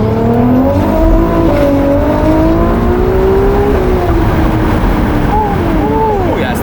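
A Ferrari 296 GTB fitted with a titanium exhaust accelerates hard, its engine note climbing through rising whines with a quick blow-off hiss near the end, loud and close with voices talking over it.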